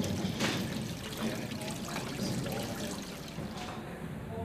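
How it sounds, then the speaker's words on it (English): Water pours and trickles out of a pile of handmade paper sheets as a 25-ton press squeezes them in a traditional Swiss papermaking workshop. A soft continuous dribble runs throughout with faint background noise. "25 tons of pressure press out the water."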